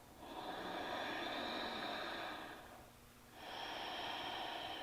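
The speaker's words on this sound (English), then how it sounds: "Inhaling, exhaling." Two long, slow yoga breaths, a drawn-out airy exhale then a pause and another breath starting, soft and close in a quiet room with no talk.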